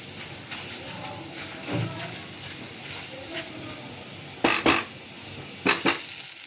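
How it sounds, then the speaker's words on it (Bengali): Cumin, asafoetida, garlic and dried chilli frying in a pan give a steady, soft sizzle, broken by a few sharp metallic clinks of a utensil against the pan. "জিরে, হিং আর রসুনটা ভাজা ভাজা হয়ে গেছে, একটু শুকনো লঙ্কা দিয়ে দেবো"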